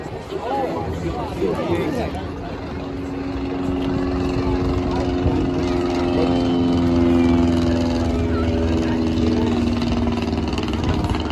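A Royal Aircraft Factory S.E.5a biplane engine running at the Ayr air show, a steady droning propeller note that swells louder toward the middle, heard outdoors with people talking nearby.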